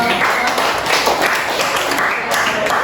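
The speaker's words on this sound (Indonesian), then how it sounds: "sudah tepuk tangan untuk kawannya sudah." Students in a classroom clap for a classmate, a loose round of close, uneven claps lasting a few seconds, with a little talk mixed in.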